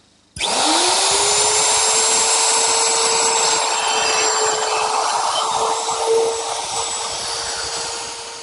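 A router with a 1/2 inch bit cutting slots in two clamped wooden cleats against a guide fence starts abruptly with a loud, close, high-pitched whine and steady cutting roar that runs continuously to the end.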